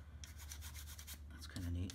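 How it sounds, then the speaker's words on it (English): An old toothbrush scraping dirt off the fuel filter area of a Triumph Scrambler motorcycle, a quiet run of close, quick bristle rubbing strokes, soft and brief. "So I got an old toothbrush. I'm just going to gently scrape away any dirt that I see here."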